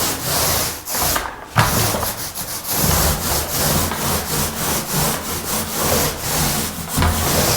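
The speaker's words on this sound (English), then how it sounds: "Now I'm just going to go back over it one more time with just whatever residue is left on the roller" A paint roller makes long strokes over an interior wall, giving a continuous rough, sticky rubbing that swells and fades with each pass, close and alone without any voices.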